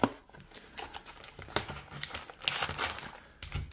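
A foil wrapper on a 2022 Upper Deck Team Canada Juniors hockey card pack is torn open and crinkled, giving close, quick bursts of crackling and tearing.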